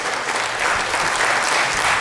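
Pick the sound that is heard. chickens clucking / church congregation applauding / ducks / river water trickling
church congregation applauding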